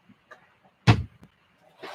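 A drawer is shut with one sharp, hollow bang while someone rummages through drawers, followed by a little soft rustling in an otherwise quiet room.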